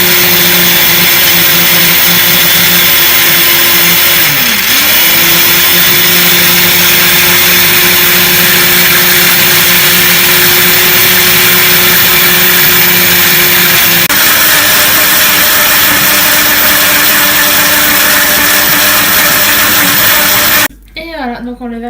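A kitchen blender mixes ingredients, a loud continuous motor whine whose pitch dips briefly and steadies again for about twenty seconds before stopping abruptly near the end.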